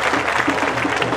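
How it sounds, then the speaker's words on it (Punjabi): Audience at a fair stage show breaks into applause, a dense, loud burst of many hands clapping together, close and continuous for a brief moment. "ਲੈ ਦੇਖੋ ਤਾੜੀਆਂ ਵੱਜੀਆਂ ਵੀ ਨੇ"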